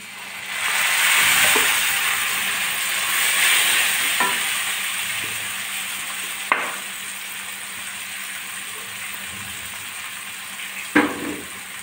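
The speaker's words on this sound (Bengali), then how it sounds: "এখন আমি বেটে রাখা ধনের পাতা, রসুন আর কাঁচা লঙ্কা দিয়ে দিচ্ছি" Coriander leaf, garlic and green chili paste sizzling in a pan of fried onions, a steady broadband frying hiss with a few sharp stirring scrapes and clinks, close and alone without talk.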